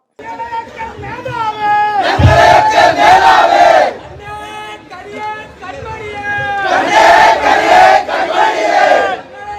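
Loud crowd at a Youth Congress political rally in Kerala breaks into cheering and roaring shouts in two long surges, with a brief lull between them and a mass of voices throughout.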